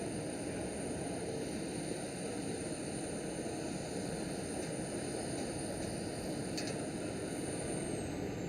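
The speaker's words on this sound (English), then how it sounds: "Ryanair 737 has just arrived" A Ryanair Boeing 737 jet arriving at Amsterdam Schiphol, a steady broadband engine roar sustained throughout with a constant high whine on top, moderately distant and unbroken by voices.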